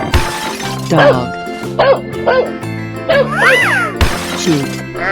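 Cartoon dog barks from a 3D animal slide video game, a few short yipping barks popping up over steady, layered game music, with excited voices chattering throughout.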